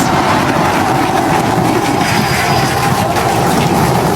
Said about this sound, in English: Booster landing burn.